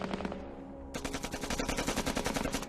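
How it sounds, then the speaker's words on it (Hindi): Rapid bursts of automatic gunfire rattle in a war movie battle scene, with a short pause and then a dense, sustained stream of sharp shots. "फायरिंग वापस शुरू हो गई।"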